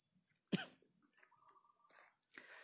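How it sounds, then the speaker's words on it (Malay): A single sharp cough bursts out near the start, close and fairly loud, followed by quiet room tone and a few soft breathy sounds. "Minta maaf, batuk sikit ni."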